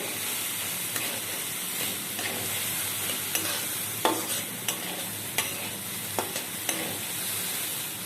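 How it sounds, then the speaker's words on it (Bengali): Two kinds of lentils fry in hot oil for khichuri, a steady dense sizzle with repeated sharp scrapes and clacks of a spatula stirring the pan, close and fairly even throughout. "আমি পরিমাণ মতো গরম তেলে দু রকম ডাল আমি এইভাবে ভেজে নিচ্ছি"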